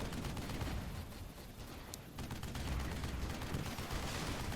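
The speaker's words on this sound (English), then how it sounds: "Arcanos has artillery now pounding" Artillery shelling in the video game Airmech, heard as a dense, continuous rumbling barrage of booming impacts that stays loud throughout with no voices.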